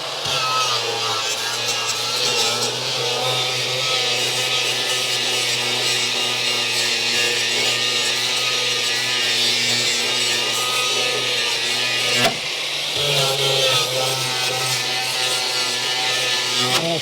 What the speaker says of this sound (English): flap disc is definitely doing some work.